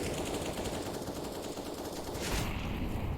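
Sustained RPK machine gun fire in Counter-Strike on the Inferno map, a dense, loud, continuous burst of rapid shots that runs the whole time with a brief sharper surge near the end.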